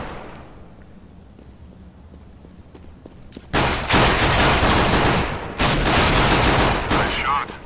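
Gunfire in Counter-Strike: Global Offensive, with quiet ticks and footsteps giving way to loud sustained bursts of rapid automatic shots and a brief pause in between.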